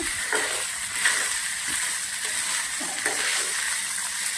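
Sabudana and potato khichdi stirred in a pan, a steady soft sizzle with scraping spoon strokes recurring every second or so, close and moderately loud.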